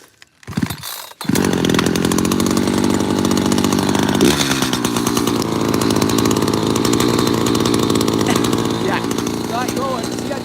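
A Husqvarna 450 chainsaw engine starts after a sputtering pull and settles into a loud, steady running drone that carries on to the end, with a slight shift in pitch partway through.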